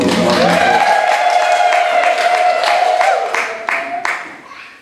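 At a wedding ceremony, a loud sustained ululation rises and holds for several seconds over a crowd, followed by scattered clapping as the sound fades out.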